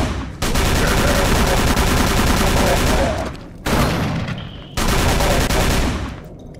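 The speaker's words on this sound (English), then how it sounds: "Grazed me with that shotgun blast." Loud, sustained bursts of gunfire from the Call of Cthulhu video game, including a shotgun blast, in three dense stretches separated by short lulls.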